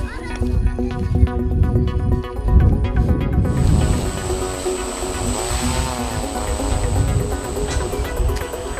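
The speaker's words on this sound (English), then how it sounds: "You see that aircraft I was testing down here, it has a system of fumigation which can be used in our agricultural purposes." A homemade prototype drone built for agricultural crop fumigation flies during a test, its propellers giving a steady buzzing whine that shifts in pitch, with a person speaking over it throughout.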